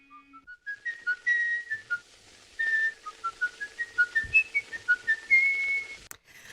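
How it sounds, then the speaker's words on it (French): A lone whistler carries a melodic tune in clear, close notes, a run of short phrases with brief pauses between them, bright and alone without talk or accompaniment. "vous avez sans doute reconnu cet air siffloté"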